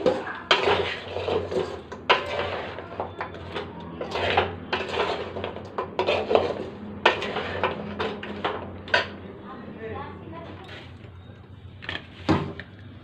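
A spoon scrapes and clanks against a pot while a jaggery gaja mixture is stirred off the heat, giving irregular, fairly close knocks and scrapes in quick succession.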